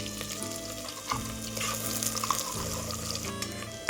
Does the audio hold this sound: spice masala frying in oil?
yes